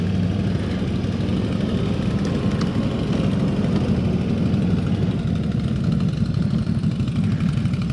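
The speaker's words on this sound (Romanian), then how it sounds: "vedeți ce frână de motor puternic are" A CFMOTO CForce 1000 ATV engine holds back on a steep downhill trail under engine braking, a steady loud rumbling drone lasting throughout, close to the microphone, with no talking.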